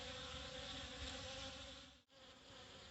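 A swarm of honeybees buzzes continuously at an open baby-pool feeder outdoors, a faint, steady, droning hum with a brief dip near the end.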